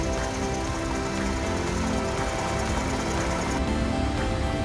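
A 2014 Toyota Sienna 3.5 AWD with about 138,000 km idles under the open hood, giving a steady, loud, even engine hum with constant vibration and no talking.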